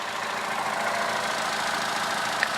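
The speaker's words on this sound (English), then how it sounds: "But yeah, that's the engine going." A rattly 1.2-litre car engine idling steadily at close range, a dense even hum with a faint tappety rattle running underneath and one small click near the end, with no voices.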